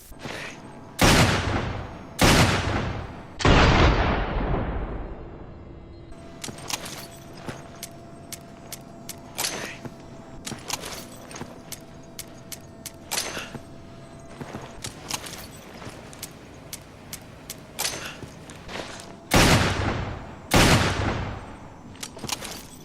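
The Smith & Wesson M500 hand cannon fires in the video game Resident Evil 5: a handful of loud, booming gunshots spaced a second or more apart, with rapid clattering game sounds between them.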